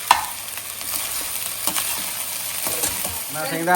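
Cooked rice for chicken fried rice is stirred in a sizzling pan, with a steady hiss and several scraping spatula strokes close up over a few seconds.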